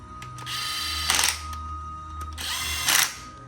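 A power tool tightens the 10 mm bolts on top of a Nissan VQ37VHR engine during assembly. It whirs loudly and nearby in two short bursts over a steady hum, with no talking.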